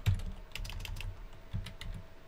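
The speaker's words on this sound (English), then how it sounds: "So I'm going to type in YouTube." Keys on a computer keyboard tap in a quick, soft run of clicks, close and muffled, with no talking over them.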